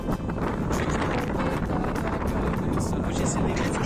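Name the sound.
strong wind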